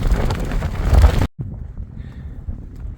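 High winds on the downwind side of a mountain during a long-distance hike, roaring loud gusts buffeting the microphone, then cutting out abruptly to a quieter breezy hush.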